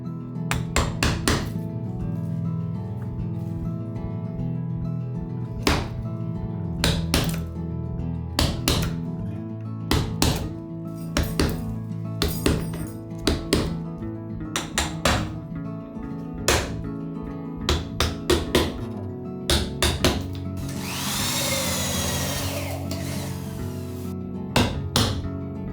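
Steady, rhythmic mallet blows drive a chisel into a thick hinoki wood board, a long run of close, crisp knocks followed near the end by a brief scraping sound.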